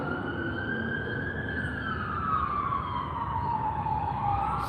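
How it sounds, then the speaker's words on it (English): Emergency sirens wail continuously at a distance, their pitch slowly rising and falling over a steady rumble of traffic. "So we're being treated to a symphony of sirens."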